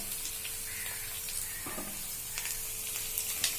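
Chopped radish hits onions fried until translucent, giving a quiet, continuous sizzle with a few light utensil clicks scattered through it.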